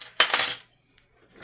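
Gelatin powder stirred in a bowl with a metal utensil, a short burst of scraping clinks close up, fading to quiet with a faint tap near the end.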